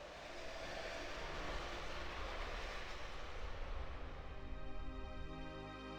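A train in Final Fantasy VII rumbles steadily throughout as a loud, continuous roar, with no talk over it.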